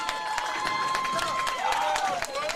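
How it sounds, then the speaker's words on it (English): Spectators applauding after a shot at a bowling alley, with a steady round of clapping and crowd murmur filling the whole moment. "It's a big round of applause."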